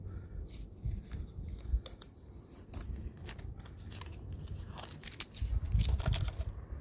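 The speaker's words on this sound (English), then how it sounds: "So what you do is you remove this front tape." Protective front tape being peeled off a car emblem template for a 2024 Honda Civic 11th Gen, with crackly tearing and quick crinkling snaps of plastic film up close, coming in short bursts with no talking.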